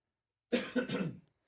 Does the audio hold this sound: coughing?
yes